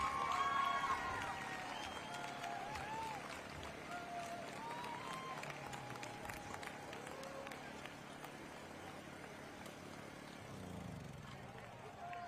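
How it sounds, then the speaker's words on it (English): Applause from a high school football crowd for the graduating class and the Salem High School Marching Band rolls on steadily, a distant wash of clapping and cheering heard alongside a voice over a loudspeaker. "Let's have another nice round of applause for the class of 2024 and all the members of the Salem High School Marching Band."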